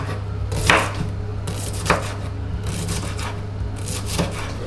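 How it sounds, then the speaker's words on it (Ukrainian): Three sharp knife chops through an onion on a cutting board, spaced about a second apart, over a steady low hum in a quiet kitchen. "Нарізаю цибульку."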